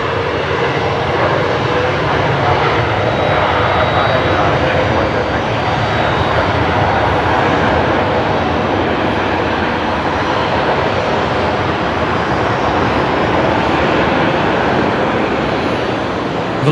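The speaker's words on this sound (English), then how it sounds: "Velocity 1227 just arrived from Canberra." A Velocity airliner that has just landed at Brisbane Airport gives off a loud, continuous jet roar that stays steady and close throughout.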